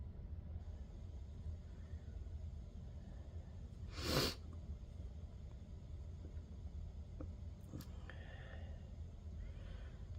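A single sharp sneeze bursts out midway through a quiet indoor session of polymer clay kaleidoscope cane work, standing alone over a low steady room hum.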